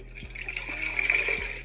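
Cold water pours into a blender jar, a steady close splashing stream with a bright hollow ring, with no speech.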